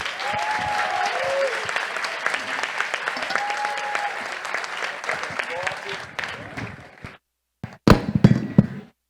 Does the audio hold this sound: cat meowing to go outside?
no